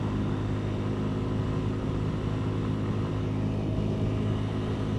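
A Buddy 125cc scooter engine drones steadily while riding at sunset, a loud continuous hum mixed with rushing wind noise, steady throughout without talk.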